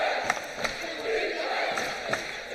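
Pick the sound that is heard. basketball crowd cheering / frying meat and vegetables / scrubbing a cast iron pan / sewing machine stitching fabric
basketball crowd cheering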